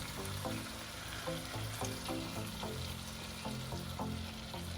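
Eggs for an omelette frying in a pan, giving a continuous, even sizzle with occasional soft crackles, close by and steady throughout.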